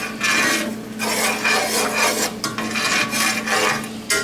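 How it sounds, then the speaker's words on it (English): A spoon stirs cornstarch slurry into a thickening pan sauce, giving a steady rasping scrape in repeated strokes, close and fairly loud, with no talking. "We're gonna put that in there. Give this a nice little stir."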